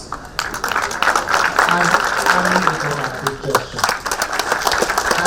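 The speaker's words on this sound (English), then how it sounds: "give one very strong round of applause to the SBI and officials" A conference audience at a fintech conclave gives a round of applause for the SBI officials, a steady spread of clapping filling the room beneath a speaking voice.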